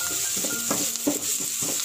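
Drumstick leaves and other ingredients sautéing in a pan for a poriyal, with a pinch of turmeric powder added, soft sizzle under several short rhythmic scrapes of a spoon against the pan, close by.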